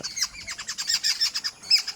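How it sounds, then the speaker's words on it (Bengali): A parrot chirps in quick, bright repeated notes from a guava tree, a rapid run of sharp tweets close by with nothing else around it. "ছাদে এসে দেখি আমাদের বাড়ির পেয়ারা গাছে একটি টিয়া পাখি বসেছে"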